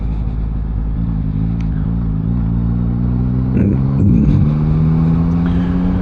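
Yamaha motorcycle riding along a damp road, its engine a steady close drone with rising harmonics as it accelerates, plus wind buffeting and a brief clatter midway.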